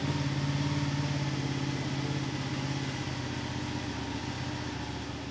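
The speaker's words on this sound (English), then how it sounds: "you're going to want to run the motorcycle for maybe 2-3 minutes" A motorcycle engine idles steadily at close range, a continuous low throbbing hum with no talk over it.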